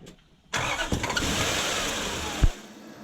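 A Toyota Celsior / Lexus LS400 engine cranks briefly and catches, settling into a steady close-up idle with a small blip near the end, after its faulty ECU was worked on.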